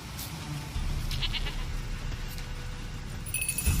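A goat in The Witcher 3 bleats a few times close by, with soft ambient game sound underneath and a brief chime near the end.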